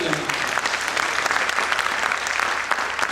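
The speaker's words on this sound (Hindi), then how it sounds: "अब ताली ऐसे बजाइए कि निर्देशक में जोश आ जाए। जोरदार ताली करनी।" An audience at a ceremony claps loudly and steadily to cheer the director, many hands beating in a thick continuous wash that stays strong throughout.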